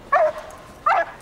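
A nervous police dog lets out two short, high whimpers spaced about a second apart, close and fairly loud against a quiet background.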